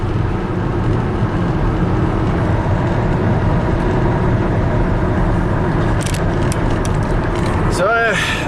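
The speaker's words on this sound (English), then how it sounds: "Let's give it a little juice on this on-ramp here. And it's got that turbo pull" Turbocharged Volvo XC70 engine pulling hard up an on-ramp, a loud steady broadband drone with rising tone near the end and brief squeaks, continuous throughout.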